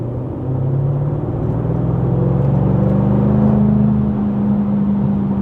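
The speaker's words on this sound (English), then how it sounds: "the exhaust note that comes from it is just like, whoo" A loud, steady engine drone from a 2024 Jaguar F-Type R75 sports car, its deep exhaust note holding a low, rising pitch throughout.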